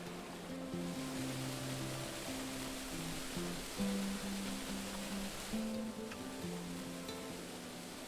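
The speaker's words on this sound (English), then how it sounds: "where the sound of falling water fills every corner." Falling water cascades into a pool inside a Pacific Northwest canyon, a steady broad rushing roar echoing off the rock walls, heard continuously and fairly quietly under soft background music.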